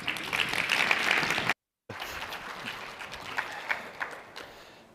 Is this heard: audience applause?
yes